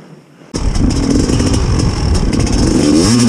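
A 2001 TM 250 Enduro two-stroke motorcycle engine starts up abruptly and revs hard, a loud, close, sustained buzzing drone with clattering texture that rises in pitch toward the end.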